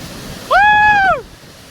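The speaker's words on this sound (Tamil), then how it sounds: "ஸோ இப்போ தான் மழை பெஞ்சு காட்டாற்று வெள்ளம் போயிட்டு இருக்குதுங்க" A flash flood rushes through a forest stream after rain, heard as a steady, loud hiss of water, briefly crossed by a short, clear whistling tone.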